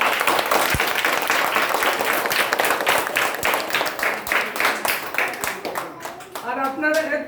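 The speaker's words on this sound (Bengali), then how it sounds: "তো প্লিজ সবার জন্য আরো একটা জোরে হাত তালি" An audience in a hall breaks into loud, sustained clapping, crisp and dense with individual sharp claps standing out, before it thins near the end as a voice begins talking.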